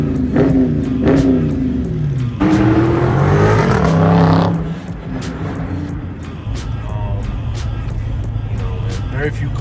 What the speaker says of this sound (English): The sound from the exhaust, the sound from the engine, from this legendary V8